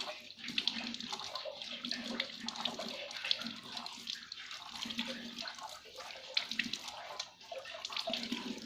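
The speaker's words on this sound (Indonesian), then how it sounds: "Lalu kita basuh dengan air mengalir." Hands being washed under running tap water during a handwashing step before a breast self-examination demonstration, a close, continuous splashing and trickling stream with small surges and drips, fairly quiet and without speech.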